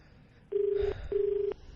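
Two long, steady telephone tones sound one after the other on a radio call line, clear and loud, each lasting under half a second with a brief gap between them.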